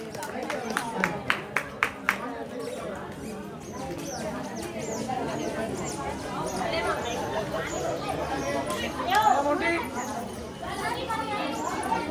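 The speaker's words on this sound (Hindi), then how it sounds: "फिर ताली बजाओ, पूरा हाथ के दिखलाओ भगवान को" Devotees at a Hanuman temple clap together: about five sharp, closely spaced claps ring out near the start, then fade into a dense murmur of crowd chatter and voices that continues to the end.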